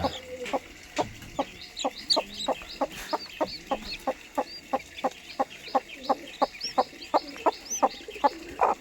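A broody hen with newly hatched chicks clucks repeatedly in a steady, regular rhythm, close by, with softer chirps from other birds in the background.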